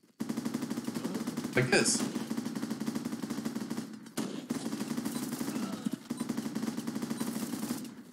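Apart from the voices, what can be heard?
machine gun firing in video game Running with Rifles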